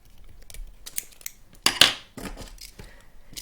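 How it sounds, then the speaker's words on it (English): Scissors trimming excess fabric from a kanzashi fabric flower petal, giving a few sharp close snips with one louder cut in the middle, over a quiet background. "take tweezers and grab this corner under slight angle and trim the excess fabric"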